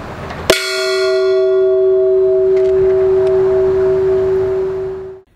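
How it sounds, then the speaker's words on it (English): A hand bell rung at a 90th birthday party gives one loud, clear strike, then a bright ringing tone that sustains for several seconds before fading out, with no voices over it. "I'm going to ring this bell to tell you happy birthday"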